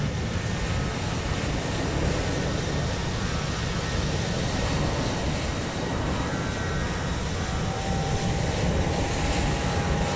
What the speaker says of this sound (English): you can hear that APU really cutting in now